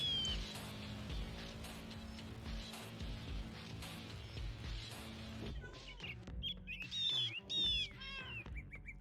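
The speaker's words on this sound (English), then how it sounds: "So many birds I hear back there." Birds chirping in the distance behind a fantasy game scene, with short high tweets and calls first under a steady music bed, then standing out more clearly near the end.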